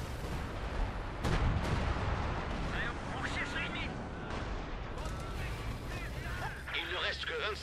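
Artillery fire in the World War II strategy game Company of Heroes 2, with a heavy boom followed by distant rumbling blasts and battlefield noise, soldiers' voices calling out over the barrage.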